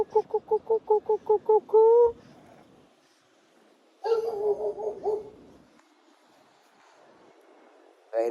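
Puppies let out a quick run of rhythmic, pitched yips, then a quieter stretch, and later a second burst of whimpering yelps, all close by.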